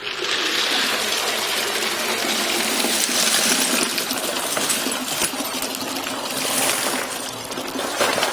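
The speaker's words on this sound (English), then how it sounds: "So I've kind of jiggled it around a little bit, kind of rinsed everything off, and I'm going to dump her one more time." Brass cartridge casings rattling and clinking inside a Frankford Arsenal Platinum Series rotary tumbler as rinse water is poured out, a loud continuous metallic jangle mixed with gushing water.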